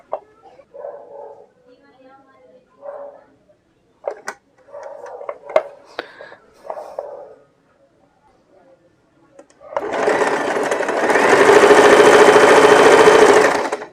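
A sewing machine stitches a blouse shoulder seam in one loud, steady whirring run of about four seconds near the end, after someone talks over soft handling noises.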